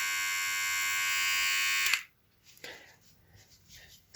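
A Glacker cordless hair clipper buzzes steadily at close range for about two seconds, then cuts off abruptly, leaving quiet handling noises and faint rustles.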